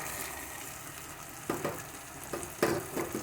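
Boiled potato dropped into an onion-tomato masala frying over low-to-medium flame for palak batata rasa bhaji, with a steady low sizzle broken by a few sharp stirring and scraping bursts near the end.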